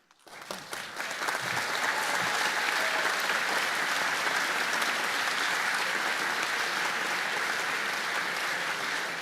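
A large crowd at a rally breaks into applause, quickly building from a few claps to a loud, sustained, even roar of clapping.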